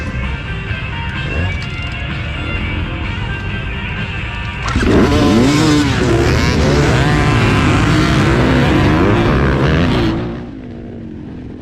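Yamaha TTR 230 dirt bike racing on an old farm track, engines droning steadily, then a louder close revving bike sweeping past with shifting pitch before the noise drops away.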